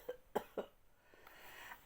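A narrator's voice imitates a cat's nasty cough, giving three short, sharp hacking bursts close to the ear, followed by a faint breathy rasp.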